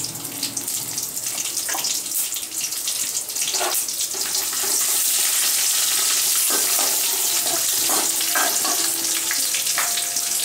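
Crushed garlic fries in oil for a fish curry, giving a loud, busy sizzle and spatter close up. It runs continuously and swells in intensity partway through, with scattered crackles and utensil clicks.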